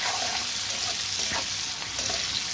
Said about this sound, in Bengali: চিংড়ি মাছটা ভাজা হয়েছে, আমি খুব কড়া করে ভাজবো না